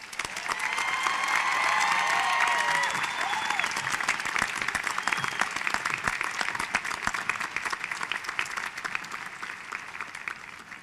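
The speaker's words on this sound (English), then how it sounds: "please give a round of applause for the Southern Oregon University graduating class of 2013" A large crowd applauds the Southern Oregon University graduating class of 2013 at commencement, continuous clapping with some cheering and whistles early on, steady and full throughout.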